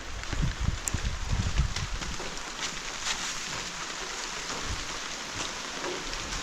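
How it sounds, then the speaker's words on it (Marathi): Soft, steady patter of light rain with a fine hiss throughout, a few louder drops and low rumbles early on, no voices. "आता रिमझिम पडतो आहे"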